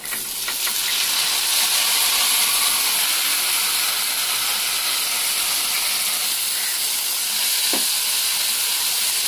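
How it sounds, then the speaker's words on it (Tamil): Sprouts stirred and frying in a pan with onions for a Tamil sprouts poriyal, giving a loud, steady sizzle and hiss with a few brief scraping stirs near the start. "இந்த ஸ்ப்ரவுட்ஸாக இப்போ மிக்ஸ் பண்ணிக்கலாம்."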